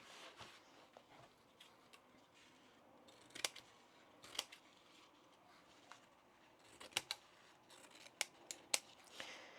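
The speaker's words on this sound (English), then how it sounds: "we want to trim along the bottom" Scissors cut through fabric while a tote bag pocket is trimmed, with faint close snips that build into several sharper clicks near the end.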